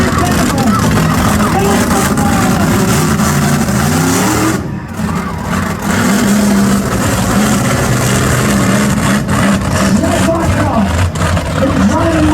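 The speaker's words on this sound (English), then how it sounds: "It's a truck gone insane!" Monster truck engine roaring and revving at a grandstand show in Yorkton, Saskatchewan, a loud continuous rumble with rising and falling pitch, briefly dipping midway, with an excited announcer shouting over it throughout.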